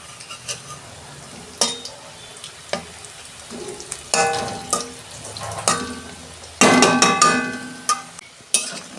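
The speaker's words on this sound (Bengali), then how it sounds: "মাছের ডিমের বড়া ভাজা আমার হয়ে গেছে" Fish roe fritters sizzling in hot oil, broken by sharp clatters and scrapes of a utensil turning them in the pan, close and fairly loud, no voices.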